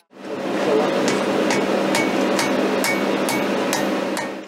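A blacksmith hammers heated metal, sharp metallic strikes ringing out at a steady pace over a constant loud roar of the forge fire.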